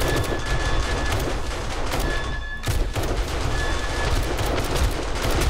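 Dense, continuous automatic gunfire rattles without pause as defensive guns mow down a zombie horde during a horde night in 7 Days to Die, loud and steady with a brief dip midway.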